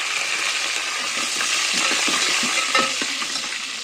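Curry leaves sizzle and crackle loudly in hot oil for a dal tempering, a dense, steady hiss with small pops scattered through it, up close with no voices.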